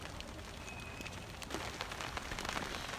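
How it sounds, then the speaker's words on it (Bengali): Steady rain falls across a pond of lotus and water lilies, a dense continuous patter with scattered sharper drop hits, growing slightly louder partway through and with no voices. "বৃষ্টির পানির শব্দগুলো অনেক ভালো লাগছিল"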